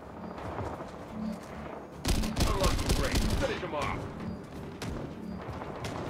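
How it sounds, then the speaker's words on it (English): Dense bursts of automatic gunfire from a PvPvE team shooter video game erupt suddenly and stay loud and close for about two seconds, then thin out into scattered shots, with a voice talking over the action. "I'm getting shot at"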